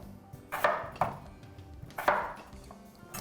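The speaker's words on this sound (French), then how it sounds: "Donc, je coupe les patates, les petites patates que j'ai ici. Je coupe ça en 8 morceaux." A knife chops small potatoes into eight pieces on a cutting board while a veal dish is being cooked, giving three or four crisp, close strikes spaced irregularly, with no talking.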